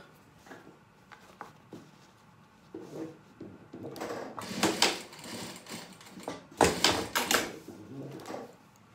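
A sewing machine stitches a duckbill fabric mask in short runs, sewing forward and then reversing, its motor whirring in bursts between quieter handling noises.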